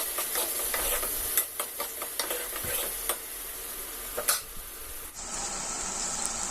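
Chili powder and turmeric sautéing in oil for an onion kulambu, heard as a soft, steady sizzle broken by repeated scraping stirs of a spoon against the pan.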